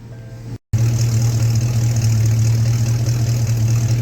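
1953 Ford F100 hot rod's stock 5-liter HO V8 idling at the rear through 2 1/4-inch dual exhaust with an H pipe, a loud steady rumble after a brief cut, close and without talk.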